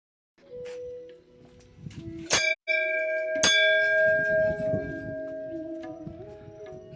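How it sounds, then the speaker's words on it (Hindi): A temple bell in a hilltop Indian temple rings with a loud metallic clang, its bright tone ringing on and fading, then struck again with another sharp clang that hums and decays slowly. "मंदिर की जो घंटी लगाई जाती है उसके भी पीछे भी बड़ा रहस्य है।"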